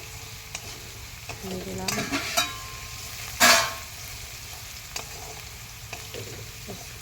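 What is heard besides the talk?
potatoes and green chillies frying in pan, stirred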